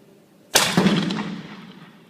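A spud cannon fires once with a sudden loud boom, followed by a rumbling echo that slowly fades out over about a second and a half.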